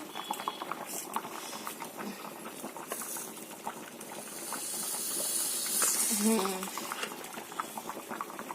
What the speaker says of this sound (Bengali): এই যে সিজলার হয়ে গেল বাটারটা দিয়ে দিলাম